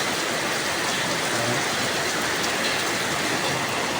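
Heavy rain pours steadily, a dense continuous hiss with no pauses, loud and close throughout.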